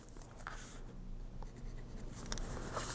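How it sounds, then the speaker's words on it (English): A pen marks trimming lines on cardstock for a traveler's notebook monthly calendar insert, giving a steady, soft scratching close by with no talk. "And I'm going to mark where I need to trim."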